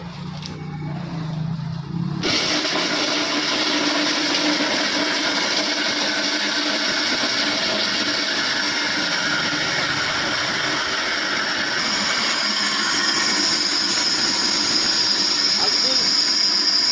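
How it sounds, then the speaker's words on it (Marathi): Heavy commercial mixer grinder grinding whole dried coconut halves into powder. After a short quiet start it switches on to a loud, steady high-pitched whirring roar that runs on without a break. "कमर्शियल मिक्सरवरती प्रत्यक्ष लाईव्ह डेमो करून बघणार आहोत।"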